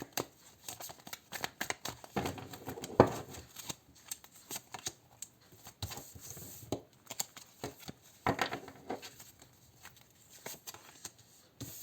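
Tarot cards snap, slide and tap onto a surface in irregular bursts as they are laid out, close by, with brief pauses between handling sounds.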